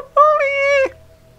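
A cat gives a single clear, loud meow lasting under a second, close by, with a faint hum before and after.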